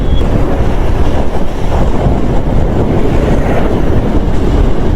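Strong wind rushes steadily across the microphone in the late afternoon after a long day of riding a TVS Raider 125cc motorbike on a solo trip from Kolkata toward Nepal, a loud, constant buffeting roar with no voices.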